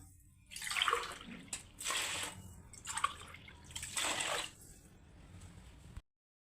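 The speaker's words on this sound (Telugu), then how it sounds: "ఇప్పుడు ఫోర్ గ్లాస్ వాటర్ పోసుకోవాలి" Water poured from a glass onto washed rice for chicken dum biryani, several close splashing, gurgling pours with short pauses between them, alone without talk.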